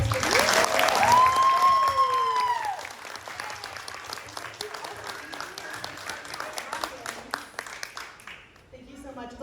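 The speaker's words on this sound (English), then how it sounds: "Can we do a big round of applause for them?" Applause from an audience after a talk on mermaids and mer-culture in Florida, bursting loud at first with voices and cheering over it, then settling into steady clapping that fades out.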